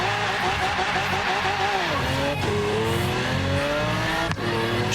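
Race car engine in Forza Horizon 3 screaming at high revs in manual mode, pitch climbing then dropping sharply at an early upshift before rising again, with a second quick shift near the end, loud and continuous.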